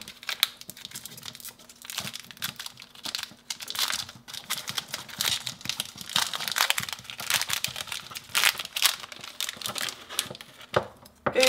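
A Milka Oreo chocolate bar's wrapper being opened up close: busy crinkling and rustling of plastic foil with tearing bursts, continuous and fairly loud across the whole stretch, no talking.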